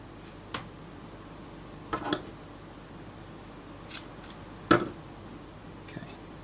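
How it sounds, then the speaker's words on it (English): Cutters snip through the Kevlar strands of an external fibre optic cable, giving a handful of short, sharp, close clicks spaced a second or two apart against a quiet background. "grab our cutters and cut away the Kevlar"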